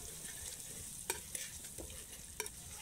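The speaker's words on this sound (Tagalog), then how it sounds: "Tirat na tirat ang bawang." Garlic stir-frying in a wok for a Chinese stir fry: steady, quiet frying hiss with a few sharp spatula clinks against the pan, no talking.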